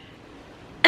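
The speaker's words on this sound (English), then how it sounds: "when I spray it on, it makes me cough" One short, sharp cough bursts out at the very end after a faint spray of perfume mist, close to the microphone, following near silence.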